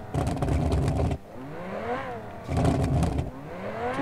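Simulated Lamborghini Huracan LP 640-4 Performante engine in BeamNG.drive, revving in two loud bursts separated by rising and falling whines as it slows, with no talk over it.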